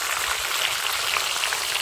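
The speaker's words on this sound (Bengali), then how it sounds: "এই কাজটা একটু ভাজা হোক" Koi fish frying in a pan, giving a close, steady hiss and crackle of sizzling oil that stays even throughout, with no talking.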